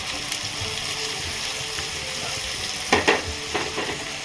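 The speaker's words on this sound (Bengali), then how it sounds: "এখন মশলাটা ভালো করে ভেজে নেব" Turmeric, chili and cumin powders, salt and blended green chili fry in a pan, a steady close sizzle with a few louder scraping stirs near the end.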